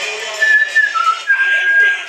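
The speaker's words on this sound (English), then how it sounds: "Who else whistles that all the time?" A person whistles a short tune loudly and close, with sustained clear notes and a brief pause between phrases, no talking.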